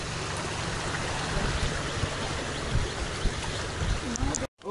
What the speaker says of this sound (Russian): Небольшой какой-то тут водопадик.